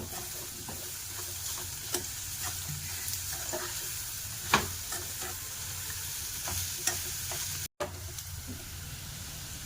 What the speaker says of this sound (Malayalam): നമ്മളിനി ആ നെയ്ക്കകത്തോട്ട് തന്നെ നമ്മൾ തേങ്ങ എടുത്ത് വെച്ചിരുന്നതും കൂടി ഇടാം